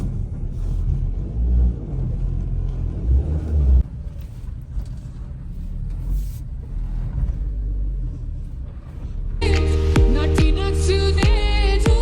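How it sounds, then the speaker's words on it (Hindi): A car engine rumbles steadily as the vehicle is driven into a house, with a deep continuous drone that shifts partway through and turns into a brighter, harsher engine tone near the end. "चढ़ाते हैं गाड़ी को अंदर भाई"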